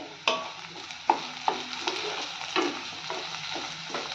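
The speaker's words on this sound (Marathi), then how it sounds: "छान असा गुलाबी हलका रंग येईपर्यंत भाजून घेऊयात एकसारखा हलवत राहायचा म्हणजे कांदा करपणार नाही" Onions frying in a pan being stirred continuously, a soft steady sizzle with sharp scraping clicks of the spoon against the pan every half second or so, close and alone.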